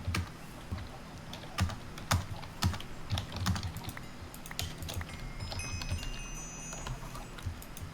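Fast, uneven typing on a computer keyboard at a gaming desk, crisp close key clicks in bursts with brief pauses, no voices.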